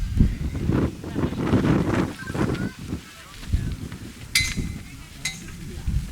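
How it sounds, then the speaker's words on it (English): Wind gusting across the summit of Brasstown Bald, Georgia's highest mountain, buffeting the microphone in uneven rumbling bursts, with a few brief higher sounds toward the end. "And yes, it is windy up here."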